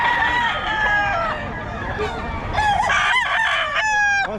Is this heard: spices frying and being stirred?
no